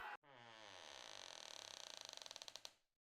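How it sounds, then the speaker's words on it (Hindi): A door creaks open in one long, loud drawn-out groan after a short thud, the squeal breaking into rapid stuttering pulses that slow and fade before silence. "उसके मामा ने दरवाजा खोला।"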